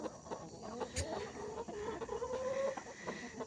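Homestead chickens cluck steadily in a low, close chatter while a rooster's drawn-out crow rises above them, all fairly quiet with faint rustling around.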